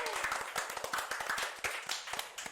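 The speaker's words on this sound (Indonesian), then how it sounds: "Tepuk tangan dong buat kita semua." A small group claps along at a podcast recording, quick uneven hand claps close by and fairly soft, lasting a couple of seconds.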